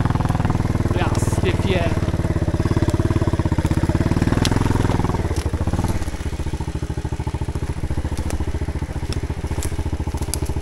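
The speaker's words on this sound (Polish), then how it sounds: "Nie wolno tu motorami jeździć" Engine of a Loncin 110/125 motorcycle runs continuously and loud at close range with a rough, rapid pulsing that eases slightly midway, as a person speaks briefly over it.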